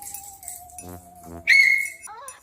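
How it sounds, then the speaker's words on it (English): A Halloween costume prop whistle is blown once, a loud, shrill blast lasting about half a second after some quieter sounds, with a faint steady tone in the background. "You have the whistle."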